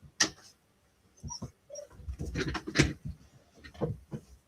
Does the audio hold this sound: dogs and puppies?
yes